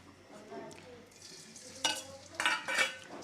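Lentils go into hot oil, giving a short burst of sizzling and stirring with a few scraping, clattering bursts of a utensil against the pan. It sounds close and moderately loud, with no talk.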